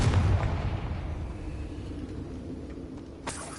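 A Confringo blasting spell explodes in Hogwarts Legacy, a deep rumbling boom that fades into a long low roll, with a faint second crack near the end.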